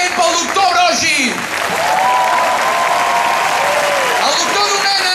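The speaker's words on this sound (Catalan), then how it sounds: "Un fort aplaudiment pel doctor Brogi." A street rally crowd breaks into loud, sustained applause mixed with shouts, while someone speaks over the clapping through an amplified address.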